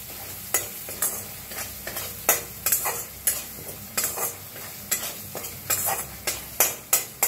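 Masala with turmeric roasting in a pan, stirred with repeated rhythmic scrapes of a spoon over a steady, close sizzle, with no voices.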